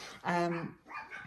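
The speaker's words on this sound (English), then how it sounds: "you can probably hear the dogs barking at something in the garden" Dogs bark in a garden, one short loud bark followed by a fainter yelp, fairly close, alone without talk.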